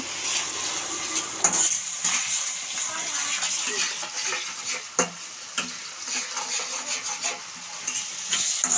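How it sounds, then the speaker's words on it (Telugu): Onions and green chilies frying over a low flame, a steady close sizzle with frequent scrapes and stirs of a spatula against the pan and occasional metallic clinks. "లో ఫ్లేమ్లో ఈ ఉల్లిపాయలని బ్రౌన్ కలర్ వచ్చేంత వరకు త్వరగా అయితే వేయించుకోవాలి"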